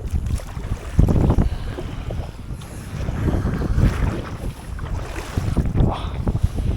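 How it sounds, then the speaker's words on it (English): Strong, gusty wind buffets the microphone on Gwynant Lake in North Wales while kayaking, with rumbling low roars that swell and ease continuously, plus faint water movement beneath, and no voices. "I'm going right through the middle where the wind's blowing right through"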